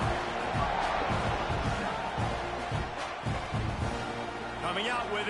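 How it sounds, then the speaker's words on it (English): Stadium crowd at an Ohio State versus Texas A&M college football game, a steady broad buzz of many voices filling the background under continuous broadcast commentary, with scattered shouts rising near the end. "this crowd is buzzing after that last score"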